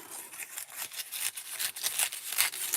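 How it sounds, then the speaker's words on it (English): Scissors snipping through paper for a mixed media postcard, a quick run of close crisp cuts in an irregular rhythm with no talking. "I'm going to cut,"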